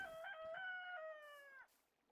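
Rooster-like call from a TerraFirmaCraft chicken: one drawn-out crow-like cry with layered tones, close and clear, trailing off after about a second and a half.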